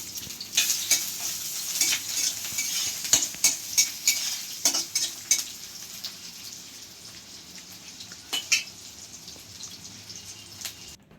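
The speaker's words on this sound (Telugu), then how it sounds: "ఉల్లిపాయలు అయితే బాగా మగ్గిపోవాలి" Onions sauté in a pan for a liver fry, a soft steady sizzle broken by sharp scraping and clinking stirs that come in quick bursts, then thin out toward the end.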